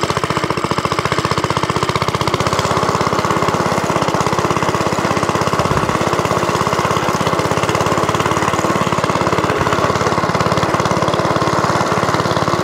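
A vintage Suffolk Corporation Mk2 cylinder lawnmower's small engine runs steadily and loudly while the mower is driven along, with both wheels and the cutting cylinder engaged. The close, continuous mechanical drone and clatter holds throughout with no talking.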